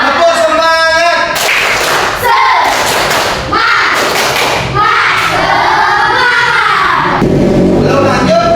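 A class of schoolchildren does a rhythmic spirit clap, sharp patterned hand claps and thumps in bursts, mixed with voices chanting along.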